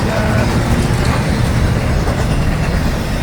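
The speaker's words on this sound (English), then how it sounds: "So it should be a big train" A big train rumbles past in Saint Augustine, a loud, steady broadband roar with low rolling rail noise that holds without a break.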